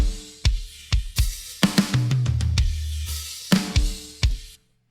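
Full drum kit tracks playing together in a rock mix, kick, snare and cymbal hits in an uneven groove with a fill and crashes midway, loud and close before stopping abruptly.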